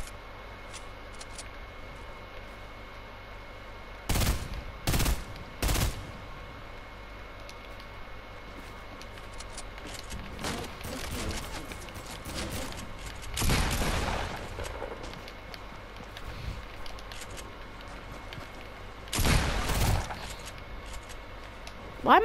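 A first-person shooter video game fires guns in short, sharp bursts, a few loud cracks spaced apart over a quiet background hum, with scattered faint clicks between shots.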